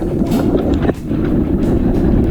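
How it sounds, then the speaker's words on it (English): Loud, steady roar of strong wind gusts buffeting the microphone during a dinghy sailing race, with a brief dip in the rush near the start before it surges again. "These gusts are just extreme."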